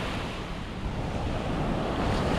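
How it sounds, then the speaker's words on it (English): Big waves crash and surge steadily along the Yorkshire coast during a sea-fishing session, a dense roar of surf churning with wind buffeting the microphone, loud and continuous with no voices. "there's big waves crashing there"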